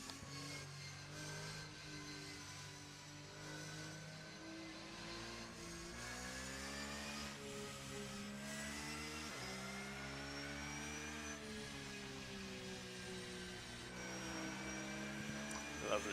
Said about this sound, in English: Lovely exhaust sound from that.